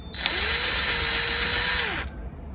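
A power drill whirs in one steady burst of about two seconds, loud and close, spinning screws out of an outdoor outlet cover; no voices.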